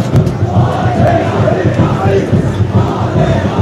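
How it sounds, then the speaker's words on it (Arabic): Meknes football supporters cheering their club at a municipal stadium in Temara, a dense, loud crowd roar with rhythmic chanting that stays constant throughout. "الجماهير المكناسية وهي تشجع الفريق ديالها"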